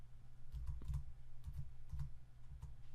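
Typing on a computer keyboard, soft quick clusters of key taps close by in an irregular rhythm, with no talking.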